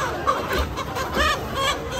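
Live hens bought at a market for the New Year meal cluck and murmur softly from close by, several short calls in quick succession over a rough background hiss.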